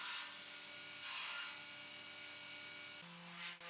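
Four wooden slats are sanded together by hand on a flat surface, giving faint, rasping strokes that come in short bursts over a low hum.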